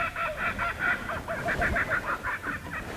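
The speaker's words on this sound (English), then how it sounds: "It's a classic Australian sound, isn't it, that kookaburra?" Kookaburra calling outdoors in Australia, a loud continuous run of rhythmic cackling hoots rising and falling over about three seconds, heard alone.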